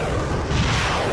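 An atomic bomb explosion rumbles as a sustained, dense roar filling the low end, loud and continuous for about a second without a distinct onset.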